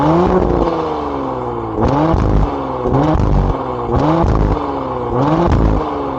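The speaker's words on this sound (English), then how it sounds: "I put the mic right by the exhaust." A 2023 Audi SQ5's 3.0 turbo V6 exhaust revs loudly and repeatedly up and down in rhythmic surges, recorded very close to the exhaust, with rising and falling pitch each time.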